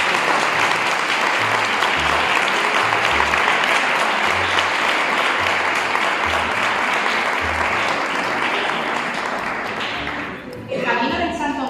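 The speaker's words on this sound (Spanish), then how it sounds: "Por favor, un aplauso para ustedes." Loud, sustained audience applause at a lecture event fills the room for about ten seconds, dense and steady before thinning out near the end as a voice begins speaking over it.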